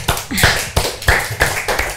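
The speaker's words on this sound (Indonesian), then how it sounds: "Tepuk tangan untuk" Scattered hand claps from a small studio audience greeting a guest named Ibu Mawar, a handful of sharp, irregular claps close by with a brief murmur between them.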